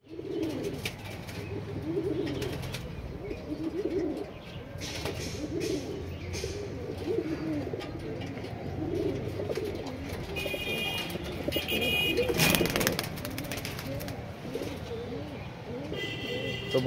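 Male pigeon cooing inside a pigeon house, soft repeated low coos running steadily through the clip amid a busy background of other birds and room noise.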